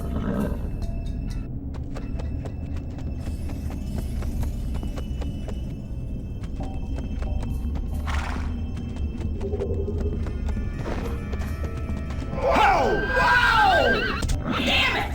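A horse in the video game Dead Head Fred makes repeated clip-clop hoofbeats against a rumbling game soundscape, then lets out a loud, wavering neigh near the end.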